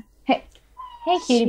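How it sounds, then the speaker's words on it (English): A cat meows twice in a room, short close calls with someone speaking briefly between them. "That was a cat for anyone in their car listening right now."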